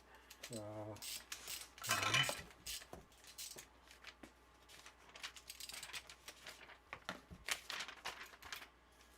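Ratcheting wrench clicks in short bursts while torquing the soft cam cap bolts on a VR6 engine during final assembly, with clinking tools and quiet workshop noise around it.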